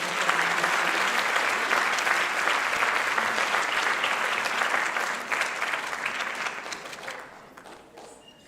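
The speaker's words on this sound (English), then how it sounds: "So can we get another round of applause?" An audience at a Bharatanatyam dance debut recital breaks into sustained dense applause that holds strong, then tapers and fades out near the end.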